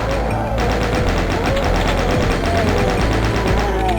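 Rapid continuous gunfire rattles in Doom II, a loud, steady stream of shots under game effects with no pauses.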